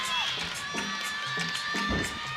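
Crowd cheering and shouting at a college women's gymnastics meet with Utah, BYU and West Virginia, a loud, steady roar of voices with rising whoops through the arena.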